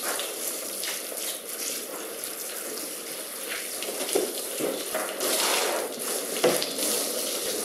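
Steady rush of tap water into a kitchen sink while a wild salmon is filleted, a continuous close hiss with a few small splashes and knocks, no voices.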